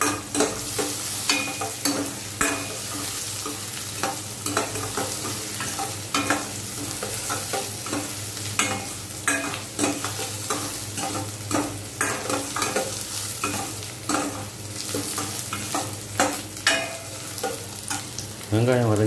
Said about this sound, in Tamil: போடுறோம், ஒரு அஞ்சு வரமிளகாய்.